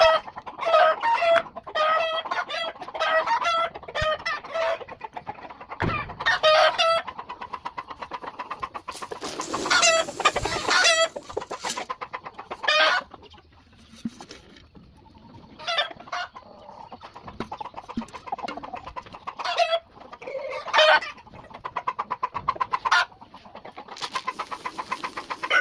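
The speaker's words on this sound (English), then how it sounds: "roosters are in a conspiracy against me talking on a video" Roosters crow and chickens cluck around a farm at feeding time, with repeated crows and busy clucking overlapping near and far in an uneven, lively rhythm, no talk over them.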